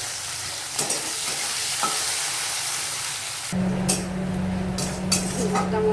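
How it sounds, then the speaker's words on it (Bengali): Chopped onion sizzles in hot oil in a pan for a Bengali meat curry, a steady frying hiss broken by occasional stirring scrapes and clinks. "দিয়ে দেবো কুচনো পেঁয়াজ,"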